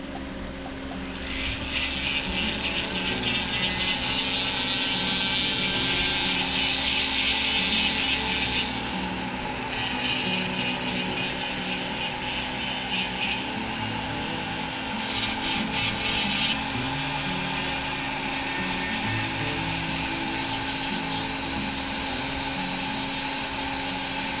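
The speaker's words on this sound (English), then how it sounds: "I'm gonna take this diamond sphere and I'm just gonna start going over, smoothing everything out, thinning it down even more." A rotary tool fitted with a diamond sphere bit whines steadily while smoothing and thinning the fins of a carved wooden rainbow trout, a continuous high-pitched grinding hum that holds for most of the stretch, close up.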